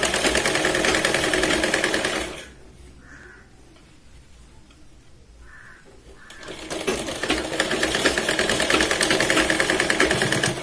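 A sewing machine stitches a katori blouse in two loud, fast, steady bursts of close mechanical chatter, separated by a quiet pause of a few seconds.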